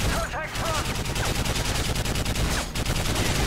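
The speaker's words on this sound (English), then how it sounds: "machine gun action" Sustained machine gun bursts in Call of Duty: Modern Warfare 3 hammer out rapid, evenly spaced shots, loud and dense from start to finish, with a faint voice briefly underneath.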